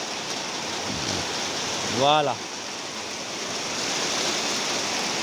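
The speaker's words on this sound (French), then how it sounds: "Il continue à pleuvoir et le ciel est toujours noir." Heavy rain falls in Kinshasa as a constant broadband wash under a dark sky, and a short burst of a voice cuts in briefly near the middle.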